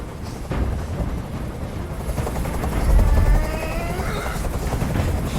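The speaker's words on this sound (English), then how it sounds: "I can't stand that noise anymore. Tell that helicopter to get out of here." A helicopter hovers in the video game Detroit: Become Human, a loud rotor throb and whine that builds and holds steady throughout, with bursts of noise mixed in.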